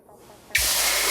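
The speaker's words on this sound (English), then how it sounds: "look at that sizzle." Pork chops hit a hot pan as water is poured in, bursting into a loud, sudden hiss of steam and sizzle that holds steady after a quiet, faintly noisy start.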